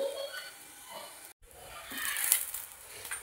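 A vegetable pancake topped with chili flakes sizzles in a pan, a soft steady frying hiss with a brief cut in the middle, and a voice talks faintly over it.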